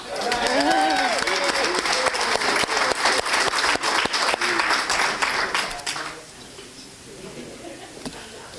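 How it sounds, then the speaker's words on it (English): An audience applauds warmly, a thick wash of clapping with a few voices mixed in, then fading to a quieter room near the end. "We give them another round of applause, please"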